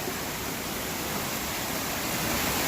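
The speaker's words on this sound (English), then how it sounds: "So this is a nice waterfall in there." A waterfall beside a mountain creek rushes in a dense, steady roar of splashing water, loud and continuous with no other sounds.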